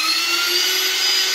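An electric drill bores a hole through plastic for a homemade pinhole camera, a steady high whine held close and loud without a break, with no talk over it.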